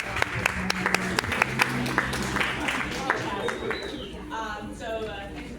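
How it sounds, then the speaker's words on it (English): An audience applauds Mr. Shaw at a City of Houston gathering, scattered individual claps rising into a crowd round of applause, with voices chattering over it as it fades. "let's give a big, warm round of applause to Mr. Shaw"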